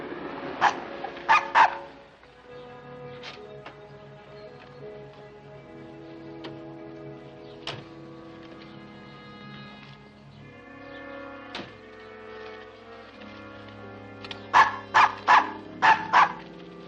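A dog barks in short bursts near the start and again in a rapid cluster at the end, with a mid-century film music score playing throughout in a 1950 adventure serial.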